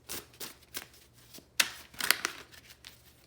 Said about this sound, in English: I'm going to fan out the cards and choose from them